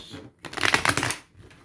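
An oracle card deck is shuffled for a card reading in a single quick riffling burst of about a second, close and crisp, with no talk over it.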